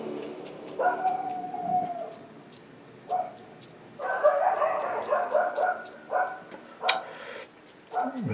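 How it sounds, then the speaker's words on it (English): A dog barks and howls in irregular bursts of high, drawn-out yelps and whines, fairly close, with quieter gaps between them. "Wretched dog"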